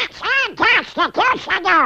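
Donald Duck style quacking as a sound effect: a quick run of about six raspy, nasal quacks in a row, loud and close, with no other sound.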